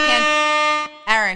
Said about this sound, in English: Can we get an air horn for that?